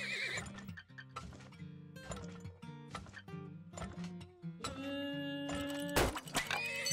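Horses neigh and whinny repeatedly inside the video game Turmoil, with loud layered calls over clip-clop hooves and chiming game music throughout, no talking.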